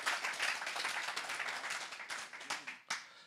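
A burst of applause and clapping that thins out toward the end into a few scattered, separate claps.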